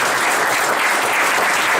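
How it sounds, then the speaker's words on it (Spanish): A church congregation bursts into steady, dense applause for the Lord, a close, full sound of many hands clapping together without pause, no voices rising above it. "denle un fuerte aplauso al Señor por la vida"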